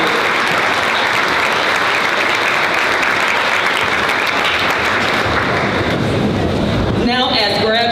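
Large crowd applauding graduates at a completer ceremony, loud sustained clapping throughout with some cheering, a voice breaking in near the end.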